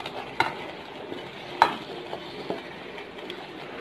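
Fried beef being stirred into softened cooked tomatoes for a dhaba-style Pakistani beef karahi, a low steady simmer broken by a few sharp scrapes and clinks of a spoon against the pan.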